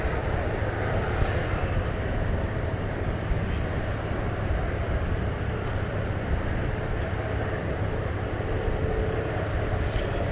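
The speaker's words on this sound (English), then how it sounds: "It's an Airbus A321." Jet engines of an Airbus A321 airliner at DFW Airport give a loud, steady, continuous roar with little variation throughout.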